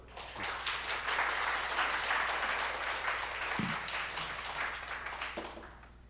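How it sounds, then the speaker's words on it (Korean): Church audience applause for a pastor at a book concert, a steady crowd of clapping at moderate level that swells early and tapers slightly toward the end, with a brief knock in the middle. "오늘 설교를 3편 하신 거나 다름없는 목사님께 박수."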